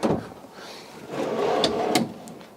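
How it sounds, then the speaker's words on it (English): A pull-out drawer in the kitchen of a 2015 Winnebago Vista 36Y Class A motorhome slides along its runners in a smooth rolling rumble, closing with a couple of light clicks and knocks, up close with no one talking. "Again, pull-out drawers below."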